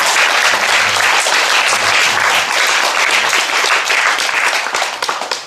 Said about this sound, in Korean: 저들을 축복하는 그 마음을 흠뻑 담아가지고 큰 박수 한번 드리겠습니다.